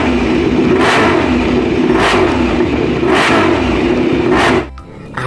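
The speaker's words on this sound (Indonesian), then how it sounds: "Di sini ada MotoGP." Racing motorcycle engine of the MotoGP kind revving hard in repeated loud surges, about four climbing whines in steady rhythm, close and continuous before cutting off abruptly near the end.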